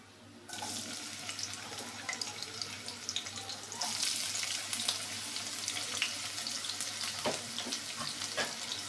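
Chopped onions hit hot oil with an abrupt sizzle, a steady hiss near at hand that swells louder partway through, with a few sharp crackles and no voices.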